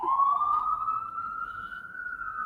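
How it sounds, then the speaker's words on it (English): A single emergency vehicle siren wails outside a window in New York, one long tone that slowly rises and holds steady, heard from some distance with no talking. "There's always some sort of sirens."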